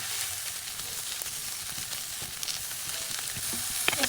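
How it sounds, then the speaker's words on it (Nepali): Soya chunks (masyaura) frying in hot oil in a pan, a steady dense sizzle with crackles and small pops running throughout at even loudness. "मस्यौरा चाहिँ मजाले भुट्ने।"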